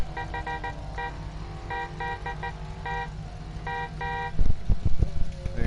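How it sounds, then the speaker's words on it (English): Fire truck in a PS4 driving game sounding its horn, repeated short loud honks in bursts over a steady engine drone, followed by heavier thumping near the end. "There's a fire truck."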